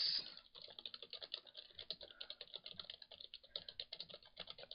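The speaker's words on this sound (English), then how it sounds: "Let's type some random keys in here" Random keys are tapped on a computer keyboard in a quick, uneven run of crisp clicks and clacks, close and fairly quiet, with no talking.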